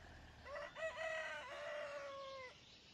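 A rooster crows once in the video game Recycling Center Simulator, a clear drawn-out cock-a-doodle-doo lasting about two seconds over a quiet background.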